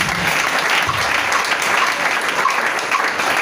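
Sustained applause from a worshipping congregation acclaiming God, with many hands clapping evenly in a continuous, fairly loud roar. No pauses or voices stand out.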